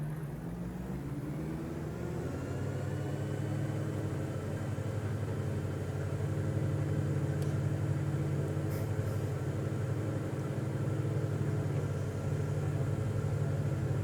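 Twin engines of a DA-42 aircraft in Microsoft Flight Simulator 2020 throttling up for takeoff, a steady droning hum that grows slightly louder and fuller, continuous and even, with no speech.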